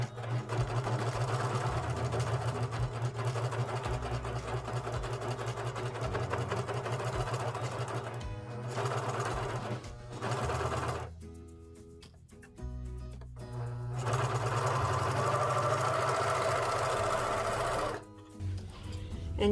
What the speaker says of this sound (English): we're going to serge this seam that we just sewed